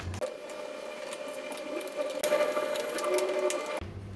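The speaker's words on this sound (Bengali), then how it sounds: "এখন আমরা সকেটটি বসিয়ে দুটো স্ক্রু দিয়ে দিব।" Screws driven into a multi-socket board with a small electric driver, a whirring motor hum running in short bursts with clicks between them, close and fairly quiet.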